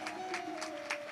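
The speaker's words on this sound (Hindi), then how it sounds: "ताली ताली बजा दीजिए" Audience clapping at a devotional stage performance, a short burst of mixed, rhythmic hand claps with swelling peaks, heard alongside a steady tonal drone from a harmonium or similar instrument.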